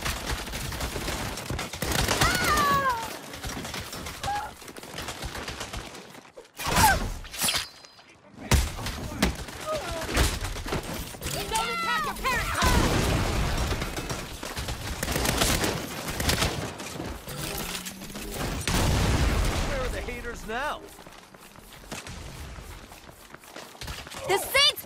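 Video game combat in Saints Row: a grenade blast and bursts of gunfire with thuds and impacts, loud and dense, mixed with shouting characters talking over the action.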